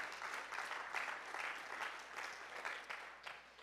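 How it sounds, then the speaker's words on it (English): A crowd claps steadily and fairly loudly for several seconds, with a dense patter of hands and no voices on top. "give the Lord a hand clap of praise"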